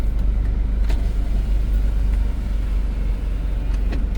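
Heavy car traffic at night on busy roads during a tropical storm gives a constant low rumble of engines and tires, with a few passing vehicles swelling briefly above the steady drone.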